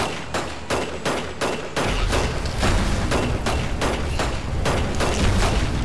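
Rapid, steady gunfire from a wizard's gun in the video game Magicka, a dense run of loud repeated shots that grows heavier and more continuous partway through.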